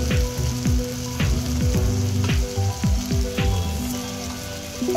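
Ground spices such as cumin sizzling as they fry in a pan with kofta gravy base, a close continuous crackling sizzle with repeated spoon scrapes and stirs, no talk.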